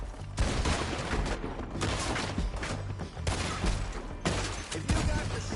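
Dense gunfire rolls on continuously in a Red Dead Redemption II town shootout, overlapping shots in loud bursts with brief dips, close and heavy, with faint shouting beneath.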